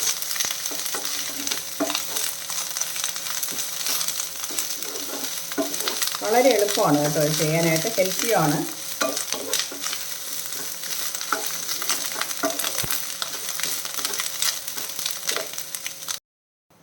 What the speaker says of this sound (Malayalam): കറിവേപ്പില ഇട്ടിട്ട് ഒരു 2 മിനിറ്റ് ഒന്ന് വഴറ്റി കൊടുക്കാം